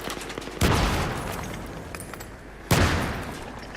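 FAMAS assault rifle fire in Battlefield 3, two loud sharp bursts of gunfire, each with a booming onset fading into a long rumbling tail, with no talking.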